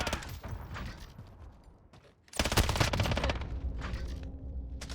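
Rapid gunfire from a Finn light machine gun in Call of Duty: Modern Warfare rattles in dense, loud bursts, fading briefly before a sharper, heavier volley erupts and keeps going.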